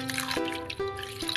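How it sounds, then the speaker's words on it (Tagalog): Cold water is poured into a cooking pot while preparing Ilonggo-style bamboo shoots, making a close, steady trickling stream with the pitch rising in steps as the vessel fills. "At din lagyan natin ng malamig na tubig."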